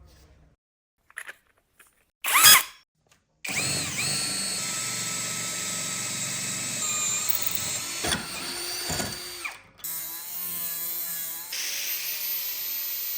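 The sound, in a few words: power drill boring a 40mm hole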